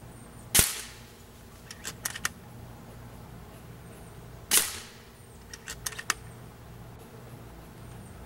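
Two sharp air rifle shots firing JSB Hades pellets at a 35-yard target, each a crisp crack about four seconds apart with faint clicks of handling between, no talk.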